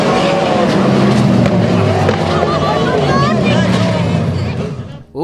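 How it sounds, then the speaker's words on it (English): A 360 sprint car roars at high revs while popping a wheelie off turn four during a 2010 championship race, the engine loud and continuous over crowd noise and a commentator's voice, before fading briefly at the end. "Bill Frazier takes a wild ride after popping a wheelie off of turn 4"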